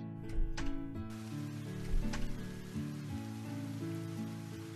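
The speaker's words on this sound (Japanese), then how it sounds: "うわ、また雨だ。" Steady rain hiss falls in a video game scene, continuous and soft, layered under gentle background music with a few brighter chime-like accents and no talking.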